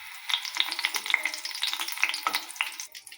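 Crushed cardamom sizzles in hot ghee as a tempering, giving a steady close frying hiss dotted with small bright pops and occasional stirring scrapes.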